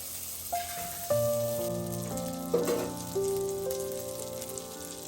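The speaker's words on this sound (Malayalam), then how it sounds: "ആ ബട്ടർ ഒന്ന് ചൂടായി വരട്ടെ." Butter heating in a pan gives a soft, steady sizzle up close, with a few clinks and a ringing metallic tone from the pan, and no talk.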